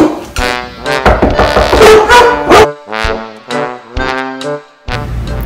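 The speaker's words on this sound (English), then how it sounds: "I want to see how they react to the doorbell." Several Weimaraner dogs barking loudly and repeatedly at a doorbell in quick bursts, some yips mixed in, close by.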